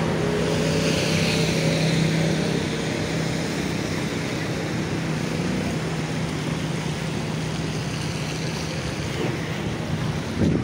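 Sea waves along Java's north coast roll in a steady, unbroken wash, with wind buffeting the microphone and a faint low engine hum beneath, no voices.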